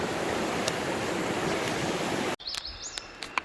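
Rushing water of Richland Creek at a trail crossing, a steady broadband wash filling the first two and a half seconds, then cutting off to quieter surroundings with faint high chirps.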